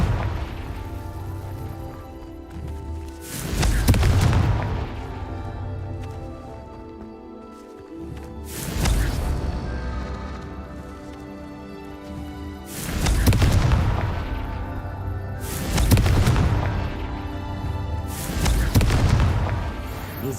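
Fire-blasting Confringo spell explosions in the game Hogwarts Legacy: five or six deep, booming blasts spaced a few seconds apart over a low rumbling game backdrop.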